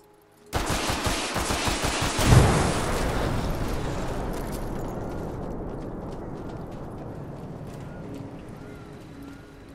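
Sustained rapid gunfire in Fallout 4 erupts loudly and keeps going for most of the stretch, dense bursts with a sharp peak early on, then slowly tailing off into a rumbling, echoing wash.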